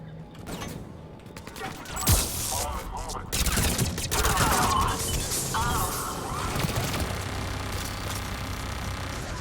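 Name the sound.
turret firing in Mass Effect 3 video game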